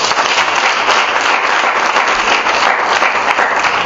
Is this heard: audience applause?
yes